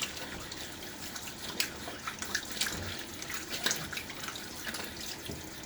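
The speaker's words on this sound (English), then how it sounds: "I'm about to do final rinse on my face" Tap water running and splashing at a bathroom sink during a final face rinse after a wet shave with a Gillette Aristocrat safety razor, a steady close stream with irregular splashes and drips, no talking.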